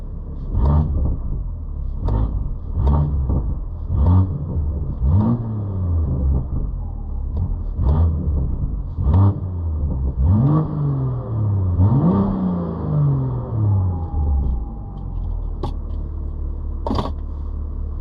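A BMW M2 fitted with a Valvetronic Designs full exhaust, heard from inside the cabin, revs hard again and again, each sharp blip rising then dropping, with loud pops and crackles between the revs.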